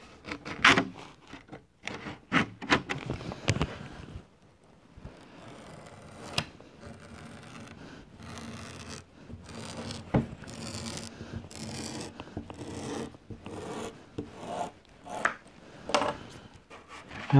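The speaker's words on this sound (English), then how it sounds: "using one of my neck pieces, essentially as a template, we're going to cut some veneer" Veneer being cut by hand around a guitar neck piece used as a template: irregular scraping, rasping strokes with sharp snips and rubs, close and fairly quiet, no talking.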